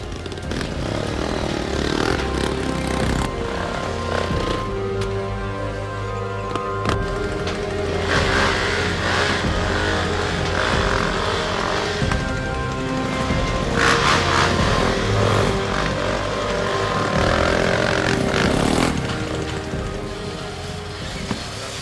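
Trail motorcycles race flat out on a wet, slippery, muddy off-road track, their engines droning loudly and continuously, with revs rising and falling as bikes pass close by.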